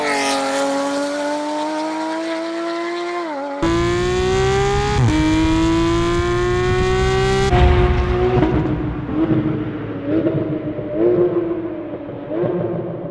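A 2016 Porsche GT3 with a Fabspeed exhaust and PDK transmission revs hard and climbs in pitch, dropping briefly at each gear change, loud and raspy through the exhaust.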